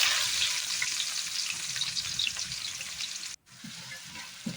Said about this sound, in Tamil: பெரிய வெங்காயம் நல்லா வதக்கி விட்டுக்கலாம்